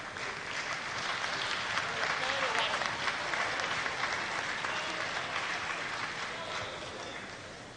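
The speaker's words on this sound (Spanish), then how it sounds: "para quienes solicitamos un fuerte aplauso" Applause from lawmakers in Peru's Congress plenary chamber, a sustained wash of many hands clapping at steady strength that slowly fades toward the end, with faint murmuring voices underneath.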